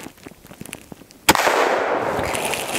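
A Glock 10mm pistol fires once into a box, a single sharp, loud report followed by a sustained noisy wash and faint rustle, with light clicks and handling sounds before the shot.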